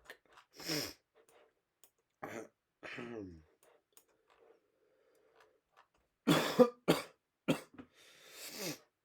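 A person coughs in several separate broadband bursts, a couple early and a harsher cluster of close, loud coughs near the end, with quiet gaps and faint breathing between them; no talking.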